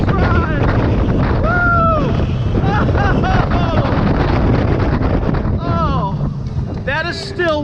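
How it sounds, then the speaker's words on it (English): Riding the Xcelerator roller coaster at Knott's Berry Farm fills the clip with loud, continuous rushing wind and rumble, while several riders scream and whoop over it. "That is still one of the fastest accelerations of any roller coaster."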